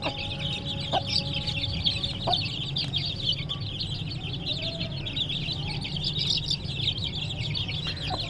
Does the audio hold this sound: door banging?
no